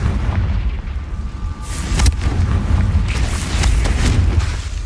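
A Confringo spell blast in Hogwarts Legacy inside a cave, heard as a loud booming explosion with a burst of impact and rumbling low-end debris that rolls on for several seconds.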